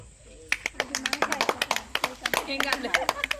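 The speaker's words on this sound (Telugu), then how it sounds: "క్లాప్స్ కొట్టండి" Audience clapping at a Mother's Day celebration in a colony hall, a scattered group of hands striking in quick uneven bursts, with a voice speaking over the claps.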